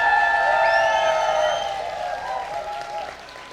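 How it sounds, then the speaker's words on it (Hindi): Applause from a seated and standing audience at a motivational talk, with whistles and cheers riding over steady clapping that fades slightly toward the end. "बैठे हुए लोग क्या करेंगे? ताली बजाओ। और जो खड़े हैं वो डांस करो, शोर मचाओ, ताली बजाओ।"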